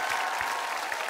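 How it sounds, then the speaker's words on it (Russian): Studio audience applauding at a Russian televised vocal show, a steady dense wash of clapping with no gaps, fairly loud and close throughout. "Сотня вам аплодирует, говорит спасибо"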